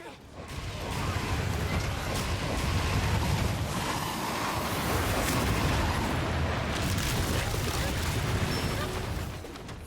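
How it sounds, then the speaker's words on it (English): Barrel bomb blast and monster attack in Monster Hunter Rise, against Silver Rathalos: a dense, roaring wash of game noise with booming low rumble and crackling debris swells and holds, then eases off toward the end. "Here is a clip of dodging Silver Rattlehouse's ultimate attack simply by using a barrel bomb"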